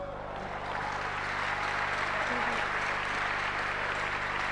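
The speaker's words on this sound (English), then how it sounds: "Clap for Jesus. Clap for Jesus." A church congregation claps together at a healing service, a dense wash of handclaps filling the room steadily with a low hum beneath and a faint voice or two mixed in.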